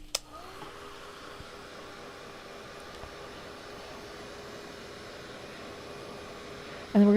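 A hair dryer blows steadily over a wet watercolour painting of a crocus, a constant close whooshing roar that stays even throughout and then cuts to a louder click at the end.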